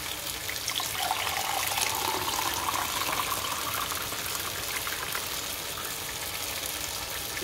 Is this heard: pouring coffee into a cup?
yes